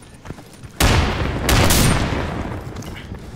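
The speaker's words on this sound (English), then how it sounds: "I'm throwing a grenade!" A grenade goes off during an indoor team game at an embassy-themed gym event, a sudden loud blast at close range followed by a second burst and a long, noisy decay.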